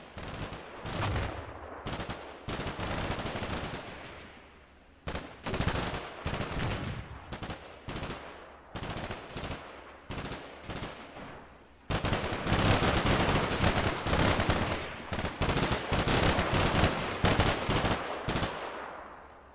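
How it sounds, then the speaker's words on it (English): Gunfire from a firefight in the combat video game Combat Mission, with dense bursts of automatic weapons and rifle shots crackling in irregular clusters, loud and continuous, building to a heavier sustained barrage in the second half. "So they won that firefight, I think."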